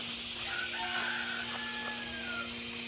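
Chickens on a farm at feeding time before dusk, with a rooster's faint crow and soft clucks over a steady background hum, no voices.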